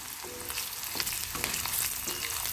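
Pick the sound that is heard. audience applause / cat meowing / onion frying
onion frying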